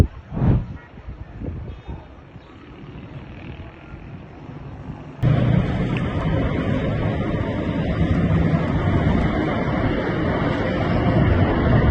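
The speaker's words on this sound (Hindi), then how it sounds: "उधर इराक के आसमान में B-2 परमाणु बॉम्बर और फाइटर जेट उड़ते हुए नजर आ रहे हैं।" B-2 nuclear bombers and fighter jets fly over Iraq: after a few seconds of quieter low rumbles and thuds, a loud, broad jet roar cuts in abruptly and keeps going, strong and sustained.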